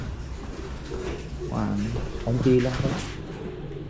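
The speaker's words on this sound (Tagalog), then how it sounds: "Gutom na ang ating mga ibon." Soft, low pigeon coos, a few rounded calls close by, mixed in with someone talking in Filipino.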